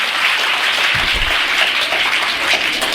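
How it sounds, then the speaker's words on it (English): A workshop audience at a hospital in Hyderabad claps with full energy, a steady, dense burst of hand claps that fills the whole stretch without pause. "When I lift my hand, clap it with full energy."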